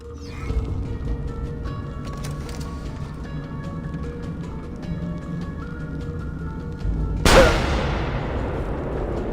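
A single loud gunshot cracks out about two-thirds of the way through a quiet stretch of ambient game sound in Assassin's Creed Revelations, followed by a short decaying tail.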